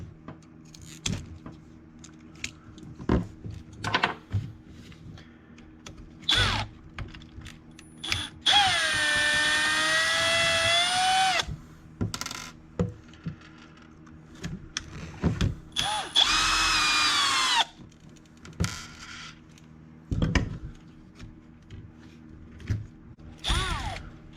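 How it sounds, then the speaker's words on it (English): A power drill or driver runs in two sustained, whining bursts while backing out the screws on a set of eBay big bore front shocks for a Backslash RC truck, with clicks and clatter of handling in between. "So I'll start by removing the front shocks and getting the dirt out of these screws."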